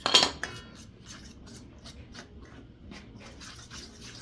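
A fork stirs biscuit dough made with whipping cream in a bowl: one sharp clink, then a run of soft, rhythmic scraping and tapping strokes against the bowl.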